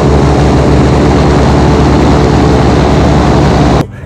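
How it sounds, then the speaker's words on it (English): A loud, steady roar of an airboat engine and propeller in the Everglades, close and continuous, cutting off abruptly at the end. "these things are loud"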